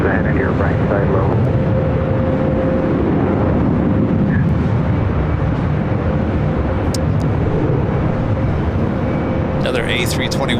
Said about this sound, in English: Another A321neo with Delta heading out.